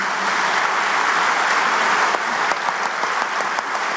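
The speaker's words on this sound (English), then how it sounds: "Please, again, give Yosh a round of applause." Audience at a benefit dinner giving a round of applause to an honoured elderly guest, steady dense clapping with crisp individual hand claps, close and sustained.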